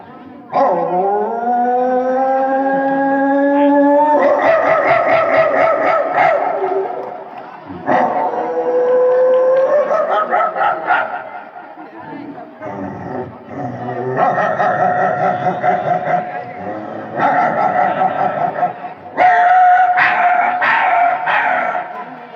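A voice imitates a dog at length: howls, yips and barking bursts in repeated rising phrases, loud and close, with brief pauses between.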